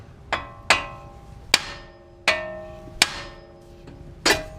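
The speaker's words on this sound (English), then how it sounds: "Just hammer this ball right here" A hammer strikes the wheel ball joint on a 2007 Toyota Camry hybrid during wheel bearing work, six sharp metallic ringing blows at an uneven pace, each one close and clear with a fading ring.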